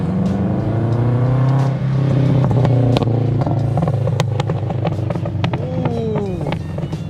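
A Rocket Bunny widebody FR-S with a new exhaust roars close by, its engine droning loudly and rising through revs, with sharp crackles and pops from the exhaust scattered throughout.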